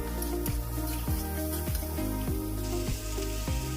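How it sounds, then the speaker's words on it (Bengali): Vegetables for veg chow mein frying loudly in a hot pan, a constant close sizzle with regular stirring scrapes about every half second. "ভেজিটেবলগুলোকে খুব ভালোভাবে ভেজে নেব"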